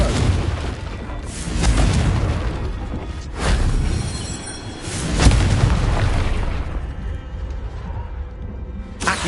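Explosive blasts from the Confringo spell in Hogwarts Legacy, several heavy booms spaced across the stretch with rumbling tails, loud and close, no talking.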